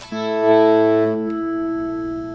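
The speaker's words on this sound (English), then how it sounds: "This reverb that they have in this thing, the spring reverb, is awesome." A sustained electric guitar chord rings out through a Mesa Boogie Lone Star amplifier, its tail washing and shimmering with spring reverb as it slowly decays.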